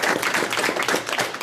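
An audience claps at a business mastermind presentation. The applause is loud and dense, with many hands clapping continuously throughout the short burst.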